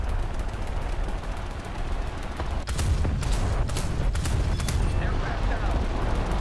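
Naval guns firing in the War Thunder video game, with several sharp loud blasts in quick succession over a steady low rumble of engine and battle noise.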